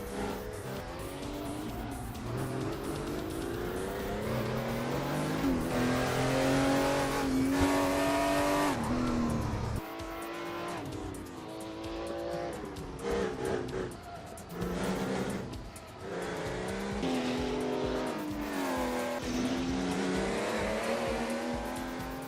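A modded race car in the racing sim Assetto Corsa drives hard, its engine loud and close as it revs up and shifts through gears, dips on braking, then climbs again with tire noise throughout.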